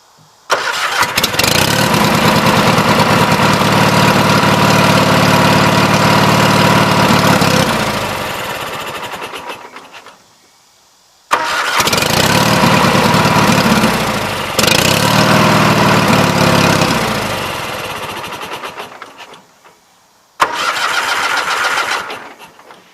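Small 20-G engines on a trailer are started and run, each burst loud and close. A long roaring run settles over several seconds, a gap follows, and then come two more runs and a short final burst.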